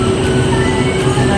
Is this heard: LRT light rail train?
yes